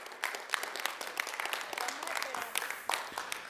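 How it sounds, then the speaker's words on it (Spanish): A church congregation breaks into loud, sustained applause, dense clapping running steadily throughout with a few sharper peaks and some voices mixed in. "Dale un aplauso fuerte si lo vas a hacer."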